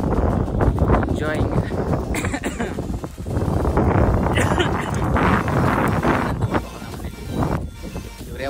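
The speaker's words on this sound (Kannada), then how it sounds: "ಆ್ಯಂಡ್ ತುಂಬಾ ಗಾಳಿ ಇದೆ, ಬಟ್ ಚಳಿ ಇಲ್ಲ" Strong wind buffets the microphone on Pattla Betta, a misty monsoon hilltop in Coorg, as a loud, continuous gusty rumble under close conversation.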